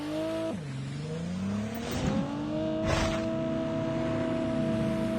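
A car engine in Call of Duty Mobile drones steadily with its pitch sweeping down, then gradually climbing, as the vehicle drives, with short bursts of game noise over it.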